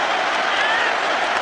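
Stadium crowd at the 1999 Rugby World Cup semi-final between France and New Zealand applauding a French try, a loud, dense roar of clapping and cheering from many thousands.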